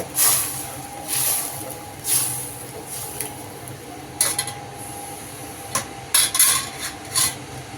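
Semiya is stirred in a cooking pot, with intermittent metallic scrapes and clinks of a spoon against the pot over a low background hum.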